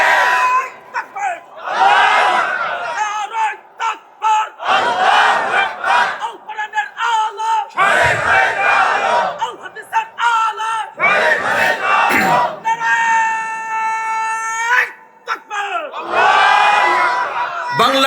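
A large crowd at an outdoor Islamic sermon gathering in Madaripur, Bangladesh, shouts loud unified replies in repeated bursts. An amplified male preacher's voice speaks in the gaps between the roaring responses.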